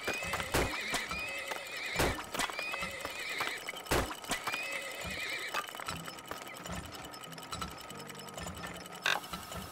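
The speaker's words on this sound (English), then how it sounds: "Horses! Horses!" Horses in the video game Turmoil give several sharp neighs and whinnies over rhythmic clip-clopping hooves, fairly close and with no talk.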